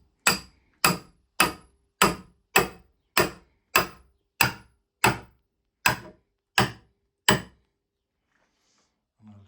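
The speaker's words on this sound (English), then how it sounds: "Give it a few taps." A hammer taps a metal pin through, twelve sharp, evenly spaced strikes about every 0.65 seconds, close and clear, ending in quiet.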